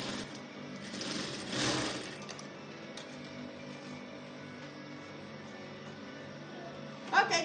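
A sewing machine stitches a fabric seam for a peplum stand, whirring steadily at moderate volume with a brief louder surge early on and a few small clicks near the end.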